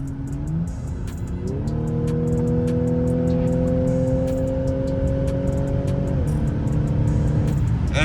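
Audi B8.5 S4 with a new exhaust accelerating hard in sport mode, a loud close engine note climbing through gear pulls with a brief shift around two seconds and a drop near six seconds, steady throughout.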